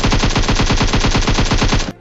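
Automatic gunfire in the mobile battle royale game BGMI: a loud, close, rapid burst of evenly spaced shots lasting about two seconds before cutting off abruptly.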